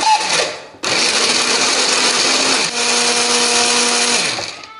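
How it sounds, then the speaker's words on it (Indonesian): A blender whirs loudly and steadily, briefly stopping then restarting, its motor pitch shifting as it grinds a thick spice paste with a little water. "ini bumbunya akan kita haluskan menggunakan blender"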